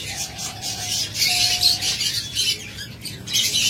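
A pair of caged local-breed pet birds, leg-ringed, call with short tweets and a couple of thin whistled notes amid a busy, noisy background.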